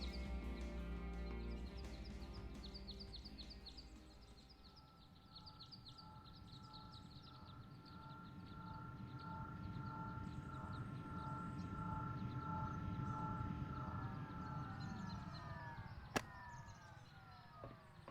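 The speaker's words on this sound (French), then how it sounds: "This drone has almost destroyed me." A police drone in a video game hums steadily overhead with a whirring, helicopter-like buzz that swells and fades over about eighteen seconds, ending with a sharp click, with no talk.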